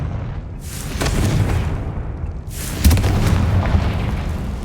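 A Confringo spell explodes in Hogwarts Legacy, a fantasy wizarding video game, as two loud, booming blasts with heavy low rumble, the second sharper, over continuous battle noise.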